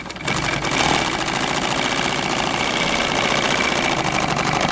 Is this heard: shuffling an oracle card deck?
no